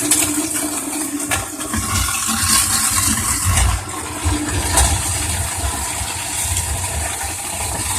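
An InSinkErator garbage disposal grinds food waste with warm running water into a compost bucket, a loud continuous churning rattle with gurgling water, steady and close for the whole stretch with no talk.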